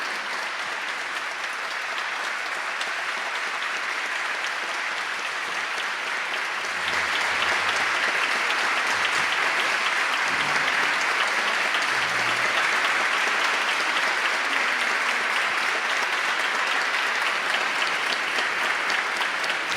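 A formal awards ceremony audience applauds continuously, a dense steady wash of many hands clapping that swells slightly midway and carries on throughout, with no talk over it.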